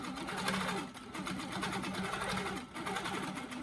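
A longarm quilting machine stitching free-motion, a close, rapid mechanical chatter of the needle running steadily with a couple of brief dips, no talking.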